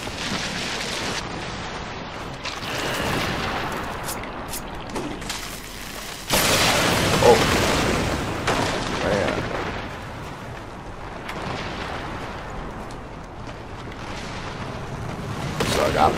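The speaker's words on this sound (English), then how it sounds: "Shadow Bomb can be used to destroy Russia. Yeah, that's a Shadow Bomb right there." Video game Darksiders 2 gameplay with Shadow Bomb explosions: dense, rumbling blasts and crackling bursts that keep overlapping, with a sharp louder surge partway through, under game background noise.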